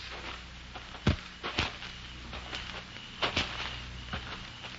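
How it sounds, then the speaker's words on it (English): Radio-drama footsteps on a path near cliffs at night come as a few sparse, soft steps. They sound fairly distant and faint over a steady background hiss. "Then you hear the footsteps."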